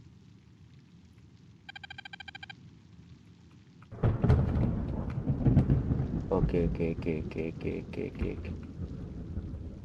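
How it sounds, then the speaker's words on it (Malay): Rain and thunder from the Detective Duck video game: a quiet stretch with a brief beeping tone, then a sudden heavy crash of thunder and steady pouring rain, with a voice speaking briefly over it. "Hujan."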